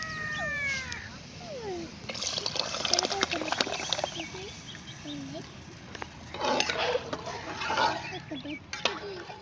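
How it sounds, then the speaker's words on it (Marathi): Ground pea paste being stirred into water in a pot, with a utensil scraping and clinking against the metal in uneven bursts while people talk nearby. "आपलं पाण्यात खलवून टाकणार आहे त्या वाटणाच्या"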